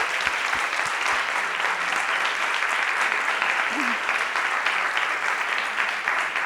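An audience at an academic conference opening bursts into sustained applause, a dense, loud and even wall of clapping that carries on unbroken with no voices on top.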